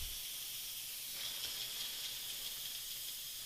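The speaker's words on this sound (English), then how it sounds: "we're going to let that steam escape and release all of the pressure" An Instant Pot's quick-release valve is opened after pressure cooking baked potatoes, letting out a steady, loud, continuous hiss of escaping steam with no pauses.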